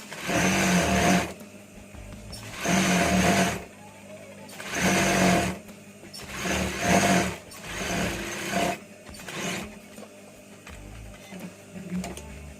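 A sewing machine stitches a knit rib band onto a hoodie body. It runs in about six separate bursts of steady, fast whirring, each lasting a second or two, with short quiet pauses between them as the fabric is adjusted.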